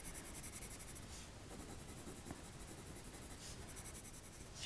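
Coloured pencil hatching strokes on paper, worked with the point of the tip, a soft, steady scratchy rasp that runs continuously and quietly with no talking.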